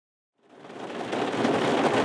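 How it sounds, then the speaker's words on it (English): A broad, steady roar of rain and distant thunder from a passing thunderstorm swells in after a brief silence and holds at a fairly loud, even level. "We got a little thunderstorm passing through."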